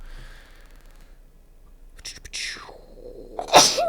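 Soft breathy sounds and faint murmuring lead into a sudden, sharp sneeze up close near the end.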